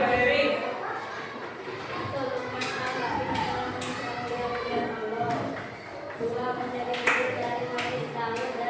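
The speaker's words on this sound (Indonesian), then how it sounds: "tepuk tangan dulu buat kelompok 1" A primary-school classroom gives a group of students a round of applause: scattered claps ring out among children's chatter and voices throughout.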